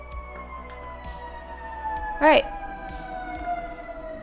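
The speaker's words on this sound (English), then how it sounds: "Thank you, sirens." Emergency vehicle sirens wail steadily in the distance with slowly falling tones, heard faintly behind a quiet indoor room while a person speaks briefly.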